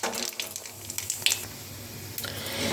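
Nigella seeds hit hot oil in a wok after fish has been fried, giving a steady broadband hiss and crackle with scattered sharp pops, close and continuous.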